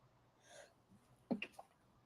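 A single quiet sneeze bursts out partway through, after soft breathing, in an otherwise calm, hushed room.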